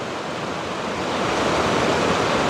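River water rushes steadily nearby, a loud, continuous broadband roar with no breaks.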